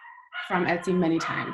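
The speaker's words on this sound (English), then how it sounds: "You guys can probably hear the dog in the background." A dog barks and yips indoors somewhere in the background, several short barks in a row that sit underneath someone talking close to the microphone.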